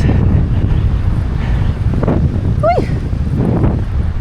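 Outdoors at an Australian campsite, strong wind buffets the microphone in a constant low roar, with a brief bird-like whistle rising faintly through it.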